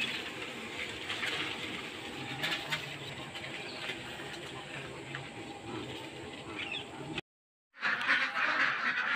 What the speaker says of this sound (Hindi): अब हम लोग बत्तख निकाल रहे हैं,